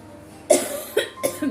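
Three separate coughs from a woman who is unwell with a bad cough, close and fairly loud, spaced about half a second apart after a quiet start, with no talking.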